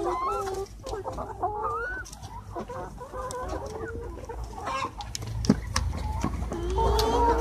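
Flock of 13-week-old laying hens clucking steadily in a coop, many birds calling and overlapping at close range, with a brief louder squawk midway and continuous farmyard background noise.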